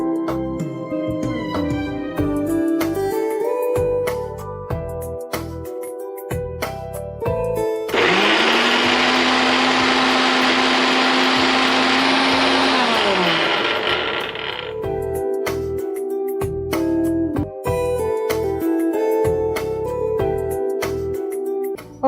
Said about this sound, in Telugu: ఇప్పుడు దీన్ని మనం మిక్సీ పట్టేసుకుంటాం.